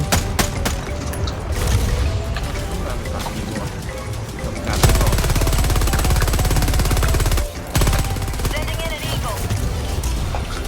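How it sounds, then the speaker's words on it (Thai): Heavy automatic weapon fire from the Dominator gun in Helldivers 2, a dense continuous barrage of shots and booms lasting most of the stretch with a brief gap, while players talk over it. "ใช้โดมิเนเตอร์ยิงได้อยู่"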